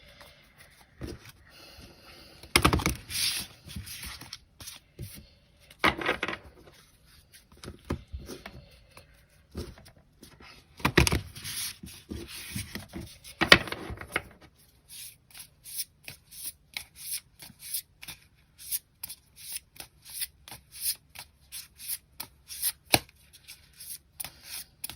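Tarot cards are shuffled by hand in bursts, with soft rubbing, riffling strokes and quick taps, some longer swishes early on followed by a run of short regular card slaps, close and fairly quiet.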